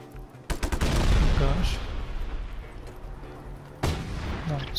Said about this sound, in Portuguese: tiroteio aqui no pessoal